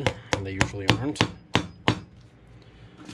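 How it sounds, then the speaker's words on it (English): A hammer drives brass clinch nails into the stacked leather heel of Alden shell cordovan shoes being resoled with leather. About six sharp, irregular blows ring out close by, with a voice briefly at the start. "Sorry about the noise, but I do have to hammer"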